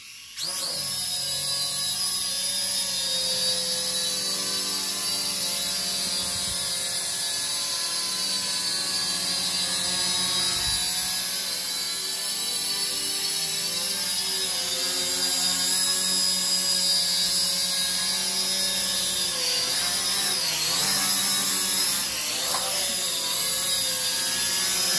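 A drone on a test flight gives off a steady, high-pitched buzzing whine that holds throughout, fairly loud and continuous, with slight shifts in pitch near the end.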